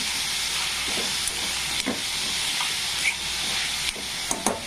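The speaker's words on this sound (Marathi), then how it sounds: "छानपैकी असा दोडका टाकून घेऊ." Ridge gourd with coriander added to a pan of toor dal, a steady close sizzle and hiss with a few soft stirring clatters, no talk.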